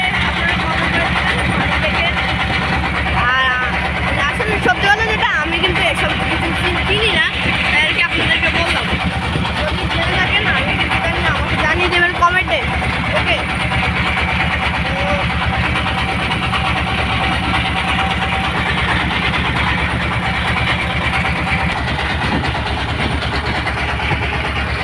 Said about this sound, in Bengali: ছোট বড় আরও অনেক ট্রলার যাচ্ছে